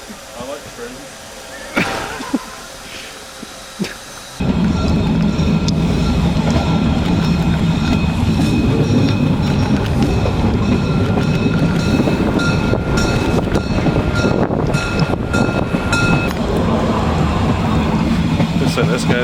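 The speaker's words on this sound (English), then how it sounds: "I like trains." A steam train runs along the tracks, its sustained loud rumble and clatter cutting in suddenly after a few quieter seconds of talk and wind noise and continuing to the end, with voices now and then.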